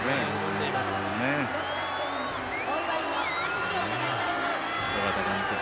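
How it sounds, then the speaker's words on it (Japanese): A stadium crowd cheers loudly during a ceremony at a Hiroshima Carp baseball game marking a pitcher's 200th win, a steady roar that runs throughout beneath a commentator's talk. "大きな歓声、石原が笑顔で喜んでいます"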